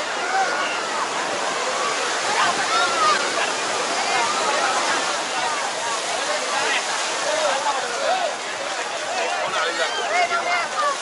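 Sea waves wash continuously onto Calangute beach in Goa during Diwali, a loud, dense hiss of surf and churning water heard close by and alone.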